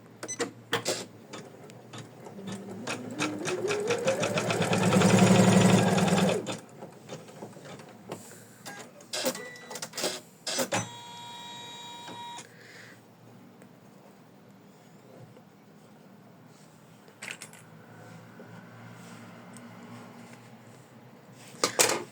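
An embroidery machine stitches a ruffle onto an in-the-hoop heart ornament, a rapid mechanical whirring hum that rises in a loud burst of stitching, then gives way to intermittent clicks, thumps and quieter whirring runs.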